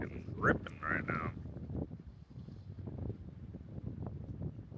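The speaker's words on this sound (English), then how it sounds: "The wind's going at 25, 30 mile per hour gusts. It's freaking ripping right now." Strong gusty wind of 25 to 30 mph buffets the microphone at a fishing spot, rumbling and roaring in waves while someone talks over it.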